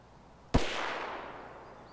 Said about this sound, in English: Is that him shooting?